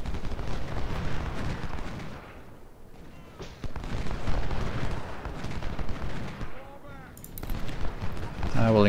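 Musket volley fire in the Civil War strategy game Ultimate General: Civil War at First Bull Run, rolling bursts of gunfire in waves, with a voice speaking briefly over the battle noise.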